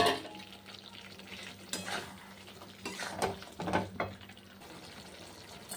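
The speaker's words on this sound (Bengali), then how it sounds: "ততক্ষণে আলুটা আর ফুলকপিটা দিয়ে দিই, এর মধ্যে কষাতে কষাতে এটাও হালকা সিদ্ধ হয়ে যাবে।" Potato and cauliflower pieces fry in a pan for a cauliflower roast, with a low sizzle under spoon scrapes and clinks against the pan in several short bursts; fairly quiet and close.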